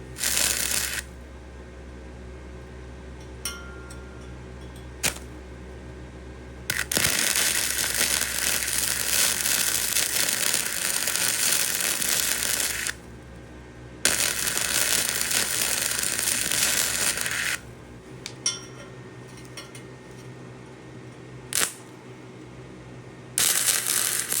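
A Titanium Flux 125 flux core welder builds up weld on a nut to pull a stud from a head, producing loud, steady crackling arc bursts several seconds long, separated by short quiet gaps.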